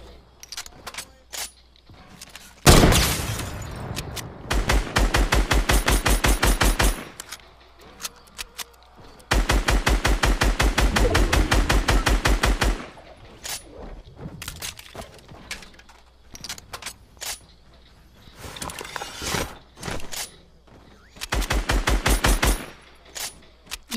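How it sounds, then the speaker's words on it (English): Sniper rifle fire in a Fortnite tournament match comes as several loud bursts of sharp, rapid repeated reports separated by quieter gaps, with faint game sounds between them. "Who keeps sniping at me?"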